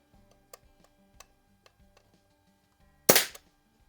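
A Crosman model 73 CO2 lever-action pellet gun fires one sharp, close crack, preceded by faint ticking and clicking handling sounds.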